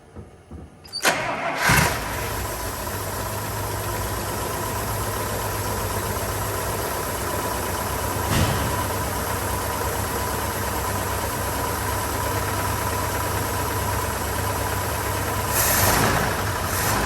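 A barn-find Buick engine cranks briefly, catches and settles into a steady rough idle that runs on, close and fairly loud with no talk.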